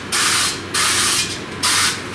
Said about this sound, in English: Get yourself some good olive oil spray.